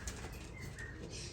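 Racing pigeons arriving home from a 290 km race out of Goondiwindi, with soft wing flaps and faint cooing close by over a steady outdoor background hum.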